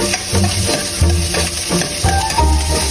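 Garlic fries in a pan with a steady loud sizzle while a utensil stirs it, giving irregular scraping knocks over the crackle, close up with no talking.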